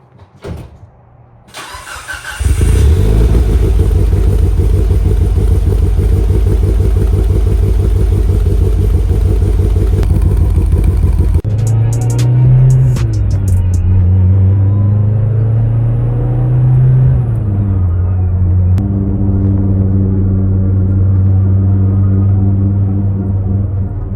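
A Mitsubishi Lancer Evolution 9, an all-wheel-drive rally car with a 4G63 turbo engine and 5-speed manual, starts and settles into a loud, close, steady rumble before revving up and down through several rises and falls.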